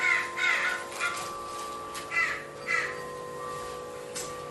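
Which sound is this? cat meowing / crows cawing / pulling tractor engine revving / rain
crows cawing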